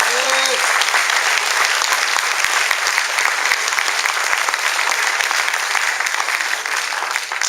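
A church congregation breaks into loud, sustained applause for Christ Jesus during a sermon, dense clapping that fills the room, with a brief voice heard at the start.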